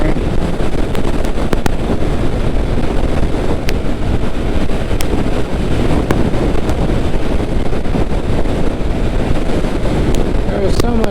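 Heavy, constant wind buffeting roars across the microphone while riding a motorcycle on the road, loud and steady throughout with a voice faintly buried beneath it.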